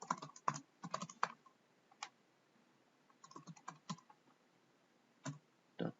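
Computer keyboard typing comes in quick bursts of close, crisp key clicks separated by short pauses, with a few isolated single taps and no voice.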